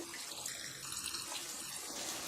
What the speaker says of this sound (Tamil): பாருங்கம்மா, ஜாரையும் கழுவி தண்ணி ஆட் பண்ணிவிடுங்க.